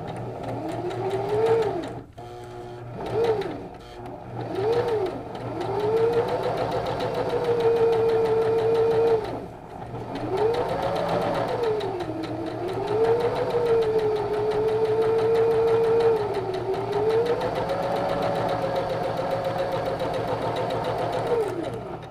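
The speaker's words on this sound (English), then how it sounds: "I'm going to put a stitch right along this fold." Domestic sewing machine stitching a rolled hem along a fabric fold, a steady mechanical whirring close by that runs for long stretches, speeding up and slowing down with brief pauses and faint handling noises.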